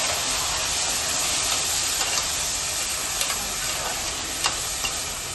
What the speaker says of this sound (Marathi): हे थोडं तेलात किंवा तुपात असं परतून घ्यायचं त्याला.